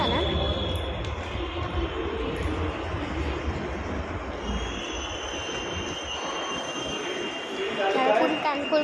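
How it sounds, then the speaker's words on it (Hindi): A passing train on a railway track rumbles broadly and steadily throughout, with metallic wheel squeal rising toward the end, heard close and loud with a faint voice in the background. "मेरे को आवाज़ आ रही ट्रेन आ रही है आने की"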